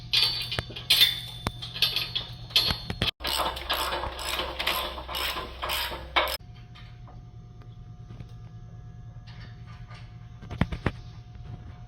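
A hand wrench tightening nuts during assembly of a Daytona 4-post parking storage lift gives a busy stretch of close ratcheting metal clicks, then quieter, sparser clicks and a faint tap near the end.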